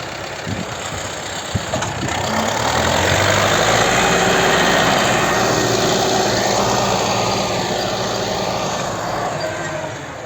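A tractor engine drones loudly and steadily throughout during barley cultivation and sowing, its rumbling pitch shifting slightly as it moves nearby.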